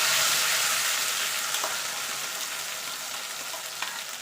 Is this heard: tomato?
yes